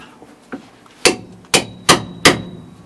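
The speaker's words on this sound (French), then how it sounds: "Je retape au marteau." A hammer striking a seized suspension ball joint on a car's control arm: four loud, sharp metallic clanks about half a second apart, preceded by a couple of lighter taps, close up with no talk.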